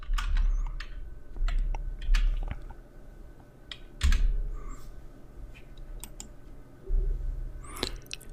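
Computer keyboard typed in short bursts of close clicking keystrokes with brief pauses between them, no talk over the tapping.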